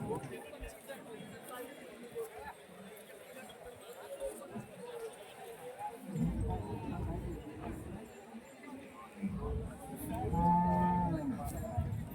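A cow moos a few times, low and drawn out, amid outdoor background noise and distant voices at a cattle market.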